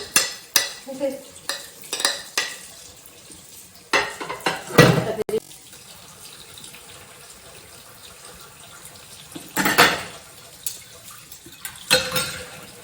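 Kitchen dishes and pots are handled in scattered bursts of clanks and scrapes, separated by quieter stretches with faint running water, each clatter close and brief.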